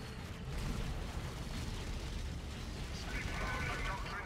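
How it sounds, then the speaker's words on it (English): Rumbling rocket barrage explosions from the real-time strategy game Dawn of War 3, a steady low booming wash of impacts with a brighter hiss building near the end, under a commentator's voice. "You got a barrage coming in over here."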